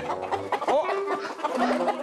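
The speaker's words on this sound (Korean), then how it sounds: "장닭이 너무 많아서" Roosters at a mountain farm with many cocks penned apart, clucking and letting out short, strained crowing calls, loud and close, in a busy overlapping jumble with no voices.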